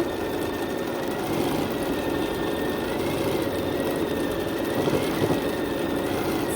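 Steady mechanical whir of a 790 Pro BQM quilting machine stitching a quilt held in the hoop, a continuous close hum with a faint tonal whine and no talking.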